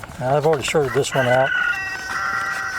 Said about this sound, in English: You can hear the rooster